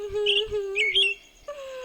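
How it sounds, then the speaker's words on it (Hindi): Birds chirp and tweet in a few short, bright bursts over a steady tonal background, close and clear, then fall quiet near the end. "तभी चिड़िया का झुंड आया"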